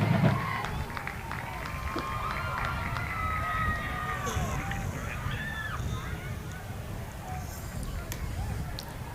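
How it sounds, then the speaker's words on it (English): A high school football crowd in Paris, Texas applauds as an injured player gets back on his feet, a steady broad wash of cheering and clapping under a stadium announcer's voice. "Give him a round of applause."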